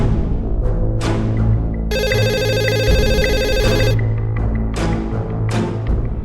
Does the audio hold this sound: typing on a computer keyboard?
no